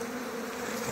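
Bees swarm around a hive inside a cave after rain, their steady, dense buzz droning close and unbroken through the short moment.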